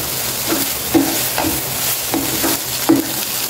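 Maggi noodles being stirred in a pan with tomato sauce and masala powder: repeated scraping stir strokes at a steady rhythm over a soft sizzle, close and alone.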